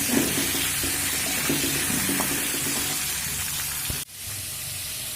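Cauliflower frying in oil with turmeric and salt over a medium flame, a loud, steady sizzle with light clatter that cuts off sharply near the end before a quieter hiss.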